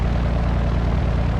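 A small airplane landing on a tight backcountry runway, heard as a loud, steady propeller-engine drone close by throughout the short moment.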